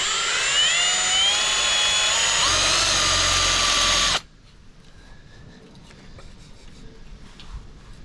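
A power drill runs loud and steady for about four seconds, its whine bending slightly in pitch, then cuts off abruptly, leaving faint workshop background noise; the work is on a Trans-Am getting a radiator and headers.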